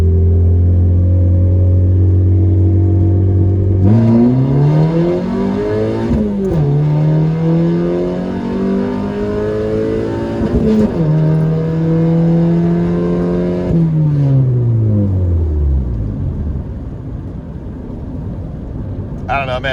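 A Honda Civic with a newly installed transmission accelerates hard through several gears, engine pitch climbing and dropping at each shift, loud from inside the car over a continuous road rumble.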